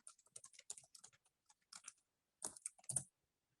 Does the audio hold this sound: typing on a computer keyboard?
yes